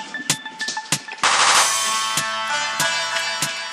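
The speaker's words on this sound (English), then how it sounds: "gunshot." A gunshot sound effect set in a 2014 grime mixtape track, with sharp repeated bangs over music and a dense burst like automatic fire, loud and up front.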